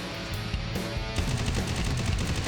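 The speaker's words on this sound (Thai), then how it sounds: "เจไดเปิดฉากยิงแล้วฮะ" Gunfire in the shooter game Free Fire during a 6 vs 6 match, loud and dense, with a run of rapid shots that picks up after the first second and keeps going over game music and ambience.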